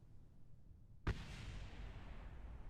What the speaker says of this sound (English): that distant explosion was just the old rockets we had blowing up